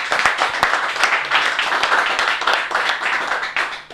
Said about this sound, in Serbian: aplauz naravno za Tijanu